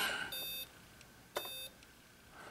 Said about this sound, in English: It beeped at me.